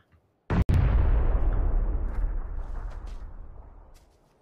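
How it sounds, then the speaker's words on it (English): A grenade blows up in a video game, one sudden loud blast after brief quiet, then a long rumbling roar that slowly fades over several seconds. "Grenade."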